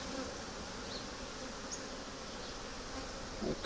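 During a hive inspection, honeybees keep up a continuous, close buzzing drone. Their faint individual passes can be picked out over the general hum.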